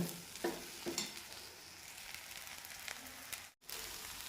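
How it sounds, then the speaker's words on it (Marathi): Sabudana khichdi, a fasting dish of sago pearls, is stirred and mixed in a pan at home, giving soft scraping strokes and a light sizzle at moderate loudness with no speech. "आता मिक्स करून घेते आणि थोडंसं झाकून ठेवते"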